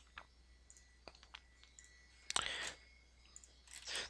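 Faint, sparse clicks from a computer mouse sound across a quiet room, scattered single taps followed by a slightly louder cluster, with no talking.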